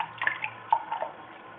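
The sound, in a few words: parrot bathing, splashing in bath water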